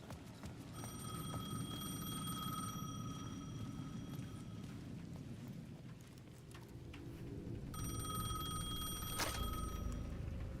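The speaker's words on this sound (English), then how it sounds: "The payphone at the edge of the plaza was ringing again." A payphone rings at the edge of a plaza in the video game Alan Wake, two long bursts of bright electronic ringing separated by a pause, over a steady low rumble like rain and distant thunder.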